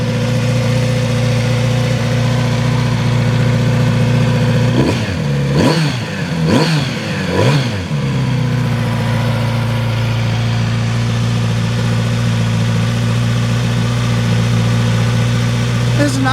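A stock-exhaust 2018 Kawasaki Z900RS motorcycle idles steadily, then gets three quick throttle blips rising and falling in pitch before settling back to a smooth, moderately quiet idle.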